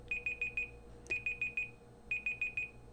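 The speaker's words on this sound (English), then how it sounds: "That's my timer." A five-minute timer alarm going off: three groups of four rapid, shrill electronic beeps with brief pauses between them, clear and moderately loud over a quiet background hum.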